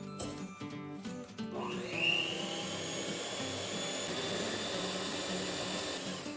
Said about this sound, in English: with a mixer.